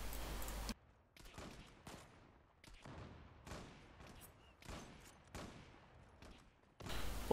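Cheytac M200 sniper rifle shots in a first-person shooter video game, several sharp loud cracks spaced about a second apart, each with a short decaying tail.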